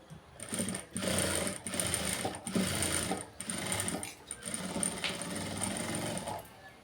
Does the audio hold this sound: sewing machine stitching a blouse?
yes